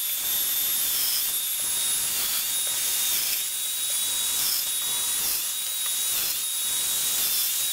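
A domino joiner plunges into wood to cut mortises for loose tenons, giving a steady, loud high-pitched motor whine with a bright cutting hiss. The whine holds continuously and nearly evenly throughout, with no talking.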